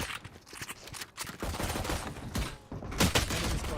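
Rapid automatic gunfire in the video game Valorant, dense bursts of shots with a louder volley near the end, heard over game audio with no talking.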